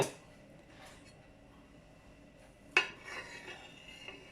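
A scraper drags excess chocolate ganache off the side of a cake: faint, quiet scraping with a soft stroke early on and one sharper scrape partway through, then light rubbing.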